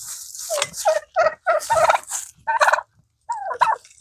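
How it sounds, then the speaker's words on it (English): Wild turkeys gobble outdoors in a run of loud, rattling calls, several bursts in quick succession with short pauses, close and clear with no talking. "We've got turkeys that are wanting to get in on this"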